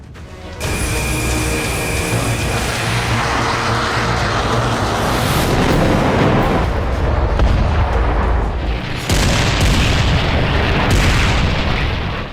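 Loud, dense booming and rumbling from a US air strike on a Taliban camp in Afghanistan, continuous heavy blasts and crackling with a brief drop near the end before the roar resumes.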